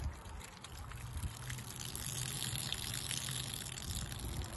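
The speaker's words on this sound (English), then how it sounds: "I'm gonna pan it and just" Water sloshes and trickles as dirt is washed out of a gold pan while panning for gold, a continuous low swishing close by with no talking.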